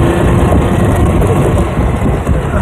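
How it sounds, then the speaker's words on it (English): Golf cart engine humming steadily while being driven across a home lawn, a close, continuous low drone with rough texture and no talk. "I never thought I'd be driving a golf cart on my own grass."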